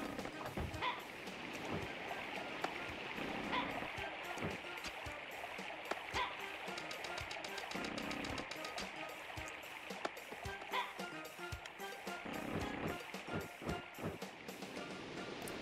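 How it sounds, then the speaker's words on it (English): Rushing waterfall in the Tomba! 2 video game, a steady broadband wash of water that runs continuously at moderate level, with game effects and faint talk over it. "Or how I get behind the waterfall."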